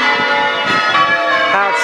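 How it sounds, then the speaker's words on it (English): Church bells at Silsden church rung by a team of bell ringers in plain hunting rounds, loud overlapping metallic strikes in a steady sequence with long ringing tones close by. "I've struck these bells."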